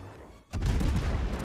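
Naval gunfire from a World of Warships match, with the Tier IX American cruiser USS Buffalo in play, booms in as a loud, sustained blast of shells that rumbles on without speech.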